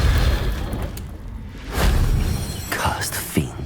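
A fiery Confringo blast from the spell in Hogwarts Legacy bursts with a booming whoosh, followed by a second burst a moment later, as a player loudly calls out spell names.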